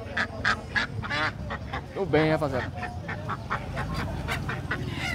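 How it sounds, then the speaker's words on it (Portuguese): A duck quacks in a busy poultry market in Camocim de São Félix, Brazil, its honking calls mixed with a man's nearby speech and background chatter. "Qual é a raça desse pato?"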